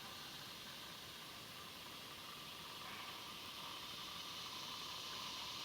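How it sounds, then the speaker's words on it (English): A kettle of water coming to a boil on a campfire grill gives a steady, even hiss that swells slightly toward the end, close and continuous with no talk. "Now see, I already hear it boiling."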